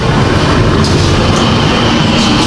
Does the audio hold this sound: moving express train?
yes